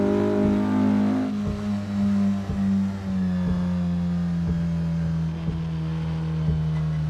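A Porsche Carrera GTS engine in a 1966 Spa racing video game revs and holds a steady, loud drone, with rhythmic pulses about once a second under the sustained tone and no talking.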